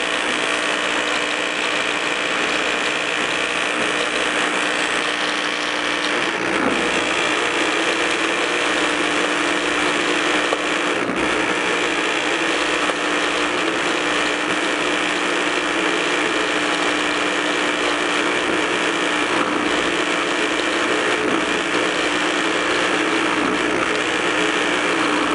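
An Electro Arc tap zapper burns through a part on auto feed, giving a steady, close, unbroken electrical buzz and crackle that holds at an even level throughout, with no talking.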